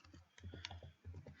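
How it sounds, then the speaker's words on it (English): Fingers type on a computer keyboard in a quick, steady run of soft key clicks, close and quiet, with a brief pause midway. "I'm typing in the dark right now"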